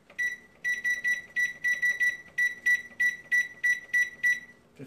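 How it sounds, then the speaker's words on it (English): Kitchen timer being set, sharp high electronic beeps in quick bursts of two to four, repeated steadily and close by with no talking. "Oh, I need to set my timer."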